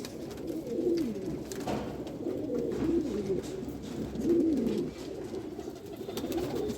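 A dark Rampuri pigeon coos nearby in three or four low, rolling bursts spaced a second or two apart over a quiet background.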